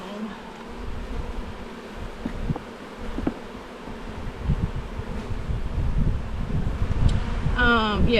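Honeybees hum and buzz around an open beehive, a steady insect drone with wind noise and some handling bumps. The buzzing grows louder toward the end, where a voice briefly speaks.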